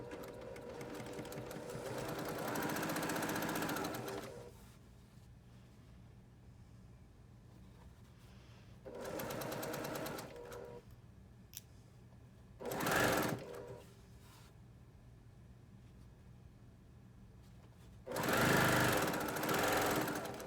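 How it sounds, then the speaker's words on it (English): A domestic sewing machine stitches quilt fabric strips into blocks, whirring in several separate steady bursts of a few seconds each with quiet gaps between them, close and moderately loud. "I'm going to go to the sewing machine now, and I'm going to cut my strips into 5-inch rectangles, and then I'm going to sew them into blocks"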